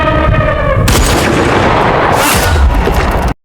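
A long-range sniper rifle fires in a film scene, a single loud blast that booms and rolls on as a dense echoing rumble for a few seconds before an abrupt cut.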